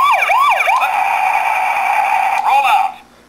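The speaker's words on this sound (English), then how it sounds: "pressing the right button will activate the siren" A loud, close electronic siren from a Transformers Animated Roll Out Command Optimus Prime toy truck wails up and down twice, holds a steady tone, then wails again briefly before cutting off.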